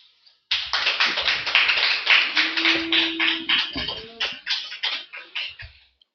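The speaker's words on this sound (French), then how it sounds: "Vous n'allez pas arrêter d'applaudir." Applause at a French municipal council meeting in Joeuf, a small group clapping in a rapid, uneven patter that starts abruptly, holds steady for several seconds and gradually thins out toward the end.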